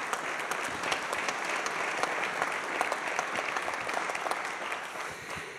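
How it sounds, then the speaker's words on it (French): Sustained audience applause at a business event welcoming a company director, dense steady clapping from a sizable crowd filling the whole stretch at even loudness, with no voices over it. "On peut l'applaudir vraiment bien fort."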